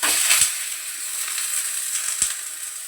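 Coriander dhapate, a village-style flatbread, frying in oil on a pan: a steady close sizzle with faint crackling throughout and two brief soft knocks.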